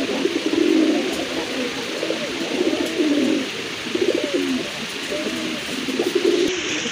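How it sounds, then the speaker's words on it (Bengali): Pigeons from a market collection coo in a loose, repeating series of deep throaty rolls, several birds calling close by with short pauses between bursts and a faint hiss underneath. "আরেক জোড়া কবুতর দেখতে পাচ্ছেন খুবই সুন্দর"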